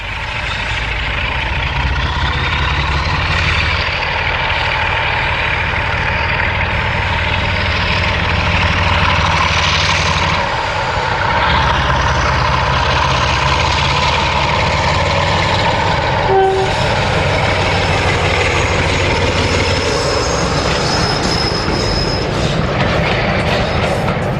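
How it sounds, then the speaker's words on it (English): Class 47 diesel locomotive 47004 departs Holywell Halt on the Embsay Railway, its engine roaring loud and steady with wheels clattering and squealing on the rails, plus a brief high tone partway through. "Former Celeb 47004 departs from Holywell Halt on the Embsay Railway in March 2007."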